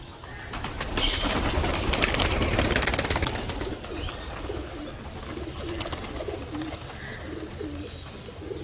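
Pigeons let out in the evening coo and flap their wings as they leave, with a burst of wingbeats early on followed by soft, steady cooing at close range.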